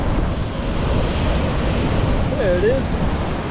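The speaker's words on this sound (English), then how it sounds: "Get some giant wave that kind of startles me a little bit." Ocean surf churns and breaks continuously on a Phu Quoc shore, loud and close, mixed with heavy wind rumbling on the microphone, while a person briefly speaks.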